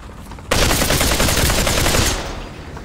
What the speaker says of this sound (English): I'm being shot by Knight.